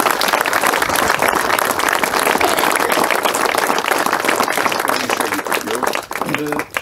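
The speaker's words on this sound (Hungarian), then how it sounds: "még egy tapsot nekik" An outdoor crowd at a watchtower inauguration applauds the performers, a loud, dense, continuous roar of clapping that tapers off near the end as voices emerge.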